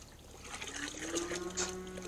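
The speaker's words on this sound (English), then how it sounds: "So I'm going to fill it with water." Tap water running into a bucket of chicken feed, a steady close trickle and pour that rises in pitch slightly as the bucket fills, heard alone without talk.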